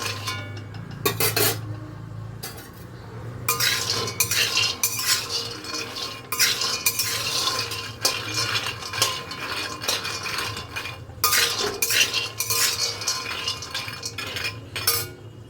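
Something is stirred steadily in a pan until it breaks down to powder, with a metal utensil scraping and clinking against the pan in repeated strokes, close and fairly loud, with no talking.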